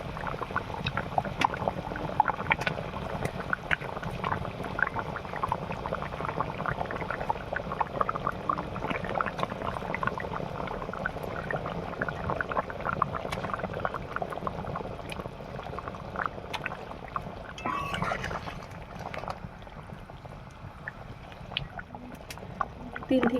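Water at a steady rolling boil in a pot, ready for pangas fish for a Bengali macher jhol, a continuous close bubbling and churning that runs on throughout, with a voice speaking over it.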